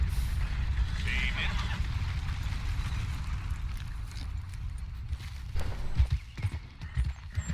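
A horse's hooves clip-clopping steadily in the open-world western game Red Dead Redemption 2, a muffled rhythmic trot under a low rumbling ambience, with a voice talking over it toward the end.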